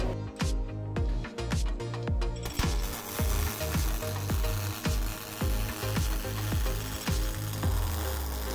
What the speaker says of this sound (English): we're using the KISWEL KC-37 welding wire using a standard pulse process on galvanized steel.